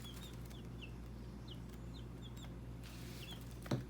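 Three-week-old, fully feathered chicks, including Barred Rocks, peep softly in a garage, with repeated thin chirps at a steady pace, faint and close, ending in a brief bump.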